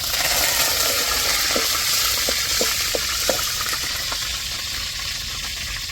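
Curry leaves hissing and sizzling in hot oil for a tempering, a steady broad fry with a scatter of sharp crackles and pops over about six seconds, close and fairly loud with no voices.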